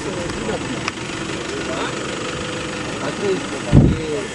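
A vehicle engine runs steadily at low pitch while being shifted into gear, with a brief louder surge near the end, under intermittent talk on a trip to a village.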